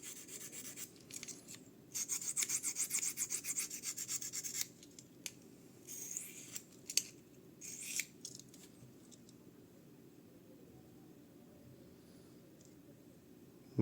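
Knife blade rubbing across a Fallkniven CC4 sharpening stone held in the hand, with intermittent scraping strokes in short bursts and pauses, fairly quiet and close.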